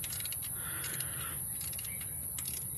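A small ratcheting hand tool tightening a part during engine timing belt work, giving quick faint clicking strokes, close up in a quiet garage.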